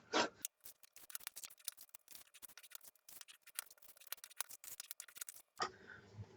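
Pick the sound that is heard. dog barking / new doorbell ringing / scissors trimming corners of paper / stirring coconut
scissors trimming corners of paper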